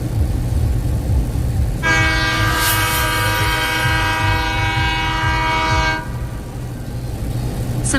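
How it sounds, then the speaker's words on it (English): A loud train horn sound alert blasts on a livestream, a single sustained multi-tone blare lasting about four seconds over a low background rumble, then cutting off abruptly. "played train horn"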